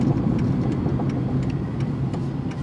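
A car rolls through Pittsburgh city streets, its steady mid-range engine hum and road rumble continuous and fairly close, with no voices.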